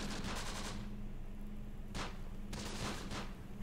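Gunfire in the video game Close Combat: The Bloody First with Italian commandos, rattling bursts of fire over a steady low battlefield hum, several distinct volleys spaced across the clip and fairly faint, with no talking.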